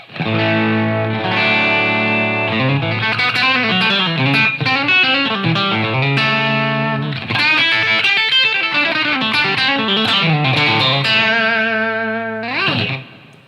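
A Squier Classic Vibe electric guitar plays a lively twangy melody with bends and sustained chords through a Boogie tube amplifier, loud and close, with no voices.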